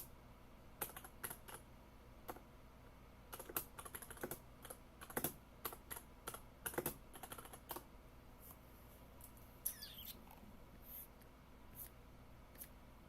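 Computer keyboard keys clack in quick irregular bursts of typing, crisp and close but quiet, with short pauses between flurries.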